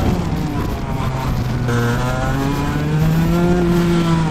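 A two-stroke 30 hp Alpha X30 kart engine revs up, its pitch climbing steadily as it accelerates, loud and close, heard alone without talk.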